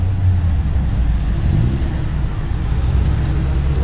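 A Corvette at an outdoor cars-and-coffee gathering rumbles steadily and close by, its deep engine note swelling slightly as it rolls past, with no talk over it.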